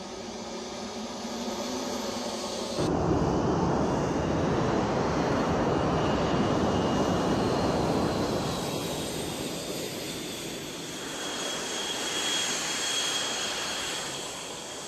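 A Dassault Rafale demonstrator jet roars past, a broad, loud engine rush that swells abruptly, holds as a powerful sustained blast, then eases and rises again with a faint high whine.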